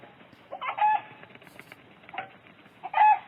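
Chicken under attack by a hawk, squawking and clucking in short distressed bursts, two loud cries with softer clucks between, close and without talk.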